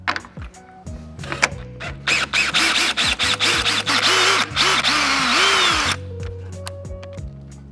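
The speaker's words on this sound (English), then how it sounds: "we'll be using our extension along with our 10mm socket and power drill" A power drill with an extension and 10mm socket spins out headlight housing bolts on a 2015-2020 13th-gen Ford F150, with repeated short close bursts that rise and fall in pitch, then a longer run before stopping.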